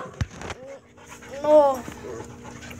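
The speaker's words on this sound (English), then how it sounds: "She is such a cute puppy." A muddy puppy panting in short quick breaths outdoors, close by, with a brief whimper, while someone talks over it.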